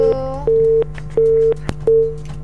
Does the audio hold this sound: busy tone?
yes